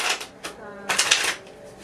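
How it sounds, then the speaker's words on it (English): Quick, crisp flurries of tarot cards being shuffled close by, a few rapid riffling bursts in under two seconds. "I'll be live shuffling, as you can hear and see."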